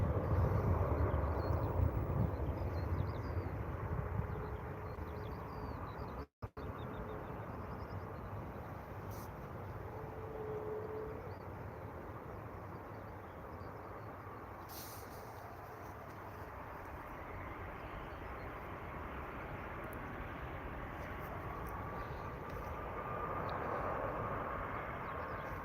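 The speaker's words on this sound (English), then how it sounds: "Ryanair, the Boeing 737. Followed by another Ryanair." A Ryanair Boeing 737 airliner at Manchester Airport gives a steady, fairly distant jet roar that lasts throughout, mixed with wind buffeting the microphone.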